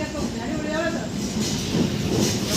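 A train pulls into a station at night after a long delay, its rumble and rail noise steady and fairly loud over a crowded platform, with voices talking throughout.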